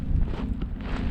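Gusty wind buffets the microphone on a chilly mountain summit on the Mt. Baldy Bowl Trail, a low continuous rumble with brief swells, close and fairly loud.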